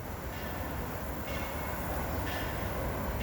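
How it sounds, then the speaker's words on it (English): A sprinter train at the Makkasan railway factory in Thailand gives off a steady, broadband rumble and hiss of rail movement, continuous at moderate loudness with no voices. "This is a sprinter train, and some of them were exported here to Thailand"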